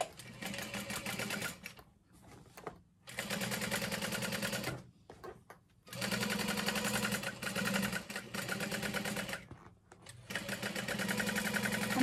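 A sewing machine stitches a handbag in loud, close bursts of rapid whirring, pausing briefly between runs as the seam is backstitched at the start and end.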